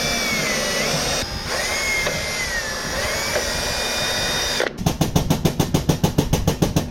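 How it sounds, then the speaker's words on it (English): A power drill clears out a grease fitting hole on a 1998 WoodMizer LT40 Super Hydraulic sawmill. A steady whine with shifting pitch gives way to a rapid, regular stuttering chatter as the bit bites, loud and close. "I'm going to take a drill and make sure this hole's cleared out"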